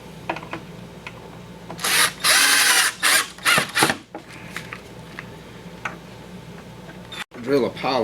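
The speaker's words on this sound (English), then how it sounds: "now we'll drill 2 holes in for the lag bolts to go in" Power drill boring pilot holes for lag bolts into wooden kitchen table legs, several loud bursts of whirring separated by pauses, with talking between the bursts.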